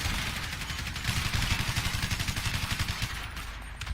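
Rapid automatic gunfire in GTA V aimed at police cars, a dense rattling burst of shots carrying on for about three seconds, loud and close over a rumbling low background.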